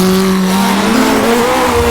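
A 1960s Formula One race car engine in rFactor 2 revs hard under acceleration, a loud nasal howl with its pitch climbing steadily across the brief stretch.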